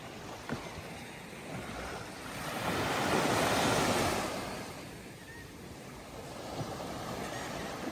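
Surf on an empty Turks and Caicos beach, waves washing in with a swell that builds and recedes in the middle, steady wind noise throughout and no talking.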